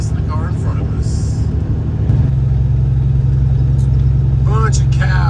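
A truck powered by a Cummins inline-six diesel cruises on the highway at speed, its steady low drone and rumble close and constant, with a person talking intermittently over it.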